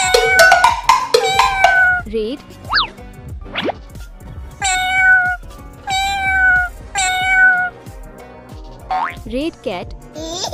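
Cartoon cat meowing in a children's animal cartoon, several bright stylized meows in bursts over boing and plop sound effects, loud and close.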